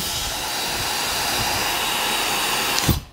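A Tineco Moda One smart hair dryer blows a steady, loud airflow hiss held close to the head, running unbroken before a brief bump and cutoff at the end.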